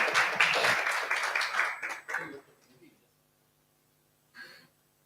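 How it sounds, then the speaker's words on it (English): Brief burst of audience applause that fades out after about two seconds, mixed with voices, followed by near silence and a short spoken word. "let's give her a big round of applause"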